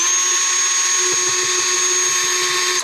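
A power drill whines at a steady high pitch as it backs screws out of a robotic mower, loud and close, running continuously before cutting off at the end.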